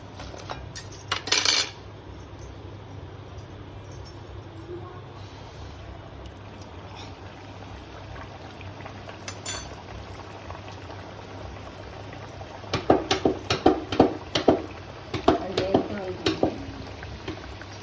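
Sojjappalu frying in a pan of oil, a constant bubbling sizzle with clinks of a utensil against the pan growing busier toward the end, no talking.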